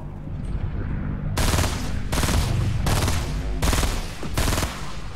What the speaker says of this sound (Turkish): Baksana ben vuruyorum, etrafa vuruşlar gidiyor